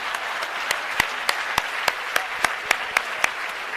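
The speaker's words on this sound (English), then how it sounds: "As we all rise, you'll then give a big round of applause to me" Audience applause rises as people stand at a formal launch ceremony: a soft wash of clapping with one sharp, evenly spaced clap cutting through about three or four times a second.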